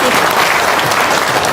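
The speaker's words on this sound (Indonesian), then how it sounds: "Yuk, tepuk tangan dong, Semarang." Loud, dense applause from a crowd at a gathering in Semarang, a continuous wash of many hands clapping at once, steady and close throughout.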